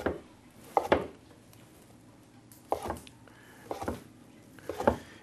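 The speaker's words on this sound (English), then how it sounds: "we're going to take a couple of blocks of seitan here, and we're going to cut them into small strips" A kitchen knife cuts blocks of seitan into small strips on a board for a sweet and sour vegetarian dish, giving a handful of sharp, separate chops with quiet gaps between them.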